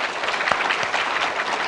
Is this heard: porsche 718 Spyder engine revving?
no